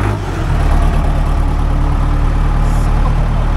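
A heavy equipment machine at an auction yard runs loud and close, its engine rising to a steady, stronger throttle after a brief start, with no voices over it.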